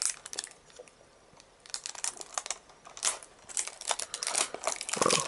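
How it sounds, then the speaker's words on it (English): Loud plastic wrap crinkling and crackling on a Japanese Pokemon booster box being unwrapped, in irregular bursts of crunching rustle, close up, with no talk. "very loud plastic wrap"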